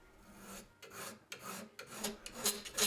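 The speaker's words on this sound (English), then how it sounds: "Use a single cut file to sharpen your scraper." A single cut file rasps across the edge of a steel scraper in repeated close, loud strokes that come in an uneven rhythm and grow stronger toward the end.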